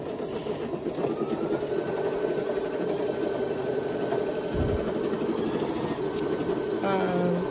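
An embroidery machine stitching a Minnie Mouse design runs with a steady mechanical whir and fast rhythmic clatter of the needle, continuous and close throughout.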